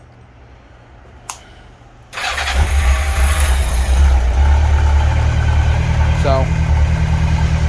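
A carbureted motorcycle starts after a faint click, then settles into a steady, loud, rumbling idle, with a brief voice over it.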